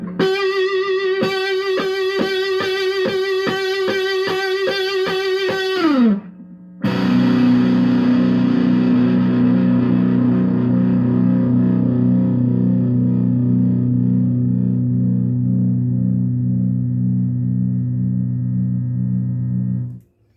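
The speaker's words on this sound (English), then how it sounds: "It contains its sound, and distortion is unique to the amp." Loud, sustained distorted electric guitar through an Orange Crush 20 amp: a held chord with a bending slide, a short gap, then heavy droning low notes ringing out until a sudden stop.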